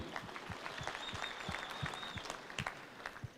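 An audience claps in steady applause at a Catholic pastoral prison care gathering in Kenya, a dense, even patter of many hands that is fairly close and continuous, with faint voices underneath.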